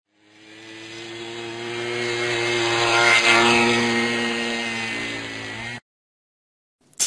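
A scooter engine drones in one sustained run, swelling gradually to a loud peak around the middle and easing a little before cutting off abruptly, followed by silence and a brief burst at the end.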